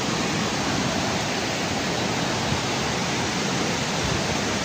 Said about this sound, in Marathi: मुसळधार पाऊस सुरू झालाय